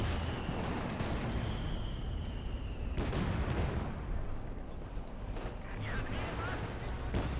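Mortar half-track shells firing and landing in Company of Heroes 2, heard as a dense, continuous rumble of distant artillery thumps and crackling explosions beneath steady battle noise.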